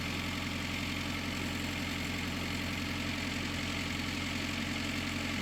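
A Morris Minor engine idles smoothly after timing chain work, a steady, even mechanical hum with a regular low pulse and no clattering, running continuously close by.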